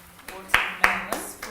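A few hand claps tapping out a fruit-word rhythm in a music lesson, sharp and close, spaced unevenly across about a second and a half.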